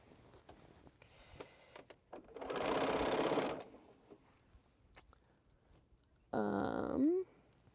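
A sewing machine stitches quilt pieces while piecing rows, in two bursts: a longer whirring run near the start and a shorter one near the end, separated by quiet handling sounds.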